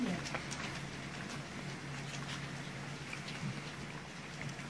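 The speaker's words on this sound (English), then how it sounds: "that's a heavy rain" Heavy rain falls steadily in a garden, a dense, even hiss with scattered drops pattering close by, while a voice talks over it throughout.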